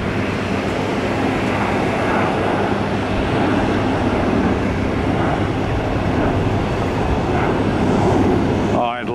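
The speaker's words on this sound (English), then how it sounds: "Should have a Cessna Citation popping out right about now." A Cessna Citation business jet takes off on runway 28 at Tampa airport, its engines giving a steady, loud, broad roar that holds for the whole stretch and swells slightly near the end.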